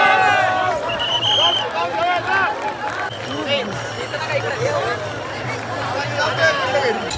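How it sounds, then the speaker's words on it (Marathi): Large crowd gathered at Mauli's ringan ceremony, a busy hubbub of many voices with scattered shouts and calls, close and lively throughout with nearby talk mixed in. "किती गर्दी आहे तुम्हीच बघताय तुमच्या डोळ्याने"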